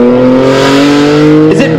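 A Honda-engined Ariel Atom launches hard at a concours event, its engine wailing loudly with a rising tone for over a second before a sharp gear change breaks the note near the end.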